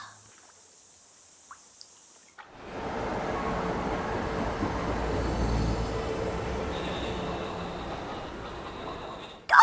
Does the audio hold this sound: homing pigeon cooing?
no